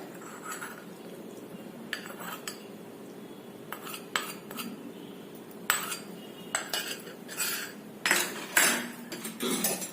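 A spoon clinks and scrapes against a container while lemon pickle is mixed, giving scattered close metallic taps that come in bursts and grow busier toward the end, with no voices.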